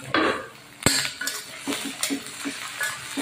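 A utensil stirs seafood pancit in a pan, producing a series of close scraping clacks and knocks against the metal, one sharp hit standing out, over a faint background sizzle with no talking.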